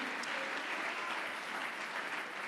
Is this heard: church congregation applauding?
yes